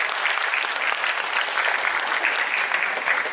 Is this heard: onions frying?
no